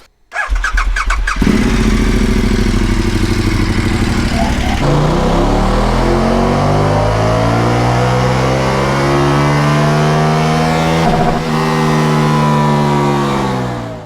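KTM 1290 Super Adventure S motorcycle, a 2021/22 model with an ECU remap, revving hard on a dyno: brief blips, then a long loud sustained run climbing through the gears with rising engine pitch, near and steady, no talk.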